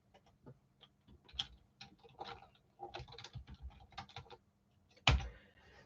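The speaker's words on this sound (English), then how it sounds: "I'll type it in there" Typing on a computer keyboard: irregular runs of quiet, close key taps over a few seconds, ending in one louder thump, with no talking.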